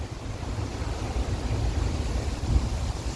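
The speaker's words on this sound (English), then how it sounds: "Apologies for the wind, it is getting crazy windy" Strong gusts buffet a microphone outdoors at a campsite on a roundabout as a storm builds, a continuous low roaring rumble with surging swells and no speech.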